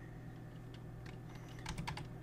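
A computer keyboard clatters in a short burst of quick keystrokes, faint and close over a low steady hum.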